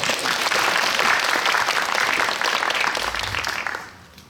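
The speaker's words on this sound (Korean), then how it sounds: "박수 한번 드립시다" Audience applause at a special guest-visit film screening of the Korean film about Kim Chang-su in a CGV Apgujeong cinema hall, dense steady clapping for about four seconds, then tapering off at the end.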